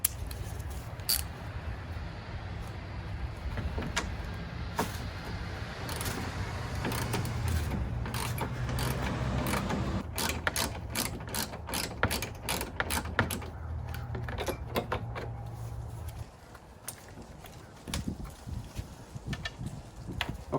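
Ratchet fitted with a tiny extension loosening a bolt on a Dodge Ram Hemi 5.7 engine: rapid, close metallic clicking comes in bursts over a low background hum, growing busier in the middle and ending with sparse clicks.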